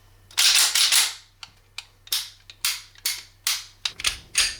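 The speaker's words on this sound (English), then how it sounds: "Rolling some trigger pulls." Dry-fire trigger pulls on a Gen 4 Glock 30 pistol, heard as a string of crisp, close mechanical clicks at a steady pace, each preceded by a short rustle of handling.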